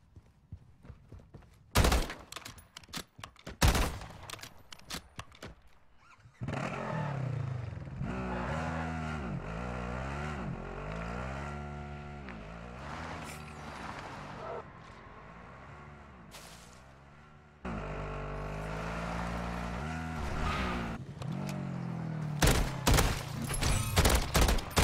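Assault rifle fire in the video game MW3 Zombies: sharp bursts of shots early on, then a long stretch of loud, tonal game music and effects, with more rapid gunfire cracks returning near the end.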